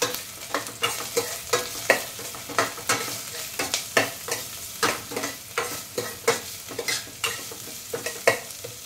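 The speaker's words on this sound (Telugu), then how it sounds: "కరివేపాకు వేస్తున్నానండి." Curry leaves sizzling in hot oil for a ridge gourd masala curry, a crackling fry with rhythmic stirring scrapes of a spoon against the pan, close and steady.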